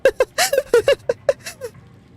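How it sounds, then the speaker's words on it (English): Trapped cats in the video game Animal Well give a rapid run of about nine short, bright, chirpy meows, close and fairly loud, bending slightly in pitch and tapering off at the end, with no voices. "They're just making little kitty noises at me."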